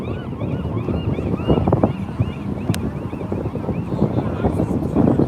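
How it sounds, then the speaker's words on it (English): Wind gusting outdoors at a seaside rally in Seaside, Oregon, buffeting the microphone with a steady low rumble and roar, with faint chatter and scattered sounds of a crowd beneath it. "it is a little windy out here"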